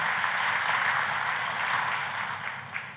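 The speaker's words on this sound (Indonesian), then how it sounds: "Kita kasih tepuk tangan yang paling meriah buat Tuhan kita." Church congregation applauding together during a worship service, a steady, dense wash of clapping that holds loud and even throughout with no talk over it.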